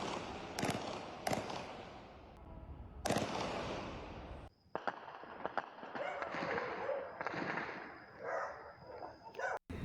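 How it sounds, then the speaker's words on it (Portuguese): Several sharp, loud gunshots ring out in the first few seconds of a Brazilian armed robbery attack, followed by a burst of dense crackling noise and commotion that continues to the end. "Nestas imagens gravadas é possível ouvir os tiros."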